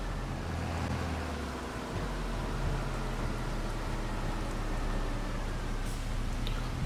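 Steady rain pours down in Farming Simulator 25, a constant broadband wash layered over a low, rumbling vehicle engine drone, continuous and even throughout with no voices.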